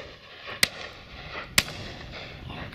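Shotguns firing at a driven pheasant and partridge shoot, two sharp distant reports about a second apart over faint outdoor background.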